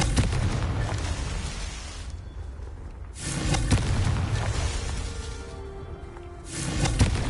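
Blasting spell explosions in the video game Hogwarts Legacy, two broad roaring booms with long rumbling tails, loud and close, separated by a quieter gap, then another blast starting at the end.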